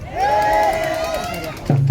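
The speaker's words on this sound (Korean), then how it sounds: "이제 그거 응원하는 것처럼 멋진 박수와 호응 줄일 수 있으시죠?" A crowd cheers and claps for the Changwon National University Phoenix cheer squad at an outdoor show for the Hansan Battle festival in Tongyeong. A sustained, fairly loud wash of voices carries a rising and falling cheer, with a sharper burst near the end.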